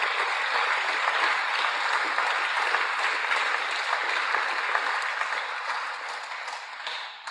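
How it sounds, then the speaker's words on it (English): Audience applause at a prize ceremony for a Pacific data visualisation challenge, a dense even burst of clapping filling the room and tapering slightly at the end. "On applaudit, s'il vous plaît."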